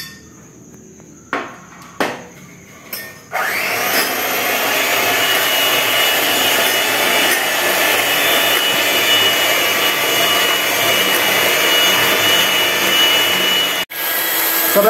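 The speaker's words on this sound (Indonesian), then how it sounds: "Oke, langsung kita mixer ya." An electric mixer beats chocolate cake batter with egg whites, emulsifier and vanilla, starting after a few light knocks and then running as a loud, steady whir for over ten seconds before a brief dip.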